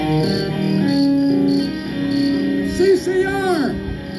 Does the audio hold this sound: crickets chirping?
yes